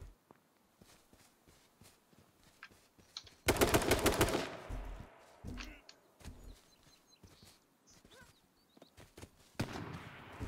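Bursts of automatic gunfire from a battle-royale shooter, H1Z1 King of the Kill: a loud, dense volley mid-clip and another near the end, with scattered shots and footsteps in between.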